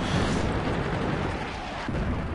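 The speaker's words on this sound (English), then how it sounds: "Hummel is firing on me" Hummel self-propelled artillery firing in a tank battle game, heard as a dense, continuous rumbling roar of gunfire and blasts with no clear pauses.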